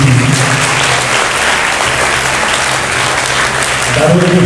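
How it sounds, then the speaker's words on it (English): A school audience at a patriotic song competition at Don Bosco School, Borivli West, applauds a guitarist who played live music: loud, sustained clapping from a large crowd, with voices briefly audible near the end. "So can we have a round of applause for him please?"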